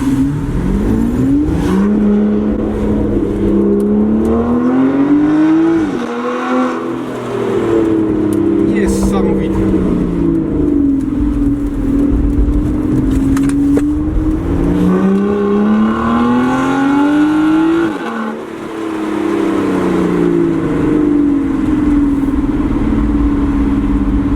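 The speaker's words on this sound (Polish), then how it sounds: "jest zimny silnik, tak, ja go w ogóle nie kręcę a już robi takie efekty" A cold Aston Martin Vanquish S Ultimate engine revs up and down repeatedly nearby, its pitch rising and falling in loud, rumbling sweeps, with talking over it.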